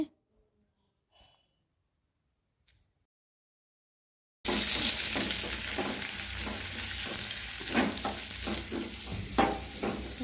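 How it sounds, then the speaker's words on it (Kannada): Onions dropped into hot oil with cashews in a pan, near-silence giving way abruptly to a loud, steady close sizzle with stirring scrapes. "ಇವಾಗ ಈರುಳ್ಳಿ ಹಾಕೋತಿದ್ದೀನಿ."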